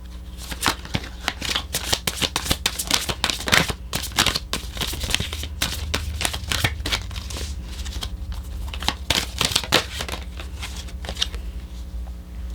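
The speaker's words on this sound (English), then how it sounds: "think of your question as I shuffle" Tarot cards are shuffled over and over in quick bursts of crisp riffling and flicking, close and continuous, with no voices.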